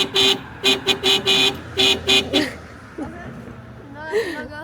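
A passing car honks its horn in a string of short, loud toots with brief gaps between them, followed by quieter street noise and a voice speaking near the end.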